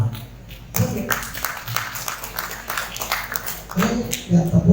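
A few people clap sparsely at an APKLI Nganjuk inauguration gathering, with scattered uneven claps that rise and fall while voices talk nearby.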